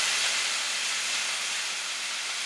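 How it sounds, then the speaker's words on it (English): Onion and fresh pressed garlic dropped into a pan with already fatty meat, giving a loud, dense, continuous hissing sizzle that holds steady throughout, close up with no talking. "So I am now going to add the onion and garlic into the pan."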